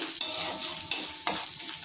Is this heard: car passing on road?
no